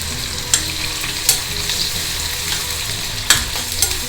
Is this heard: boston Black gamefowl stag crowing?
no